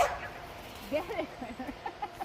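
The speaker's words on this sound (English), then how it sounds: "The chickens are all at the fence now and they're like, hey, where's mine?" Chickens cluck at a fence in a backyard, a series of short close calls in a loose rhythm, with a person talking nearby.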